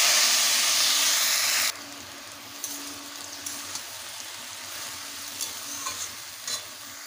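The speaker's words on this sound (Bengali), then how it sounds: "এবারে দিয়ে দেব শাক।" Water spinach dropped into hot oil seasoned with black cumin and green chillies, a loud hissing burst that cuts off and settles into a steady sizzle with stirring clatters.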